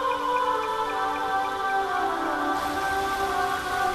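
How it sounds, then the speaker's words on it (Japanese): Steady rain falls in the video game Boku no Natsuyasumi, an even, close hiss of drops on surfaces running throughout, with sustained tonal background sounds layered underneath. "あ、雨だ。"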